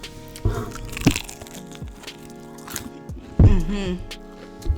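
Close crunching bites of fried chicken and waffle with chewing and mouth noises, loud and near, with a couple of sharper crackly bites among softer squishy sounds.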